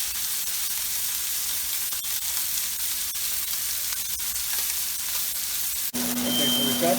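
Sous vide steak searing in a hot pan, a loud continuous sizzle with crackles and pops, steady close-up frying that changes tone near the end as a faint high beep appears.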